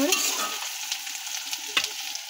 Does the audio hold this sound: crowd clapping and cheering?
no